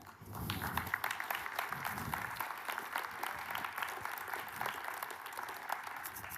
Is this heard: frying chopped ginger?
no